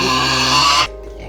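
Pigs grunting and squealing on a local village pig farm, a loud dense burst lasting under a second that cuts off abruptly, leaving quiet background noise.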